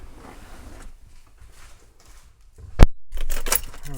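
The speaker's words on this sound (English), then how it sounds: "Let me grab my keys." A set of car keys for a Honda Pilot jingles in one sharp, bright burst, followed by a short stretch of softer metallic rattling close by, with quiet room noise before it and no speech.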